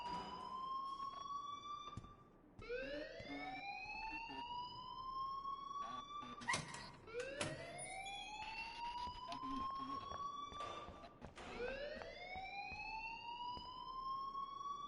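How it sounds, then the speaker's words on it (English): A wailing alarm in the video game Life is Strange, repeated rising electronic sweeps cycling steadily every couple of seconds at moderate volume, with faint voices and scattered knocks underneath. "please turn off that alarm since that's your job"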